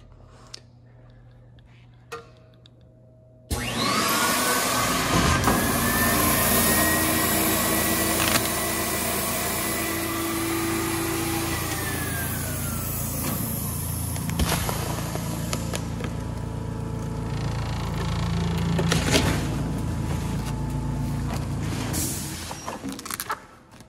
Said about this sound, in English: when I pull it off of the machine and hit the cycle start button again, it'll automatically cut